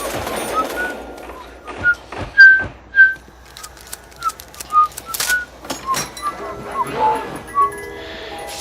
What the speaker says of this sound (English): I just noticed I was whistling Yankee Doodle Dandy